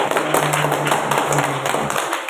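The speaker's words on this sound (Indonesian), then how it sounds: "Mohon tepuk tangan dan applause untuk Pak Wijo." Teachers and parents at an Indonesian state elementary school clap during a principal's performance observation, a loud, dense patter of hand claps over a steady room murmur, ending after about two seconds.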